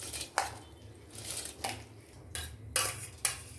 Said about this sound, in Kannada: ಇವಾಗ ನೆನೆಸಿ ಇಟ್ಟಿರ್ತಕ್ಕಂತಹ ಅಕ್ಕಿಯನ್ನು ನಾನು ಹಾಕೋತಾ ಇದ್ದೀನಿ.